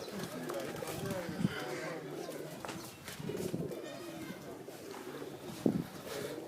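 Pigeons coo on a rooftop, low murmuring calls repeating beneath people talking nearby.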